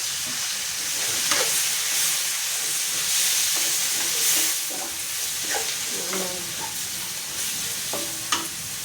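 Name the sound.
stir-frying vegetable stems with oyster sauce in a pan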